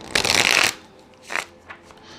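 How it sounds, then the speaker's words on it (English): A deck of tarot cards is shuffled up close: one loud, sustained riffle followed by two shorter, softer flicks of the cards, with no voices. "I didn't shuffle beforehand, so I'm gonna do that now."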